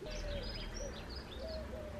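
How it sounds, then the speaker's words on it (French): Birds sing outdoors with soft, repeated chirps and whistled notes, faint and somewhat distant over a steady low background hum. "J'adore entendre les oiseaux."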